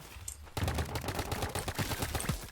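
Rapid paintball gunfire in the Roblox game Big Paintball 2, a dense burst of repeated shots starting abruptly and continuing steadily close up, with no talking.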